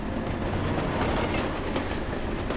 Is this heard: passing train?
yes